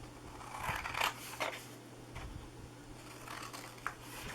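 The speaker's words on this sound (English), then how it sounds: "So we are going to cut these corners off here, because this is going to be the back part of our box." Scissors cut the corners off a cardboard box with a few sparse, crisp snips, quiet and close, separated by soft handling noises.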